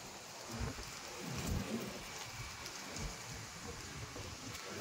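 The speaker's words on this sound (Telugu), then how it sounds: "ఫుల్ వర్షం పడుతుంది." Heavy rain pours steadily outside a rented house with trees nearby, a dense continuous hiss with faint low rumbles that may be distant thunder, moderately loud and without voices.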